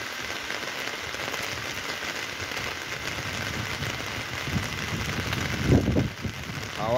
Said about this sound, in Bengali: বৃষ্টি পড়ছে, বৃষ্টির আওয়াজটা শোনো জাস্ট।